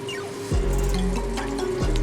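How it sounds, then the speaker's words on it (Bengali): Vetki fish pieces go into boiling hot water with salt and turmeric, giving a steady close bubbling and liquid churn with low rumbling swells and small splashes throughout. "সবার প্রথমে ফোটানো গরম জলে লবণ হলুদ দিয়ে দেবো"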